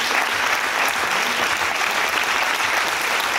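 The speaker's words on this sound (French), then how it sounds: "Applaudissez-les, c'est un travail collectif." Audience applause for volunteers at the close of a congress in Reims, a dense, steady wash of clapping from a large crowd, loud and continuous throughout with no speech over it.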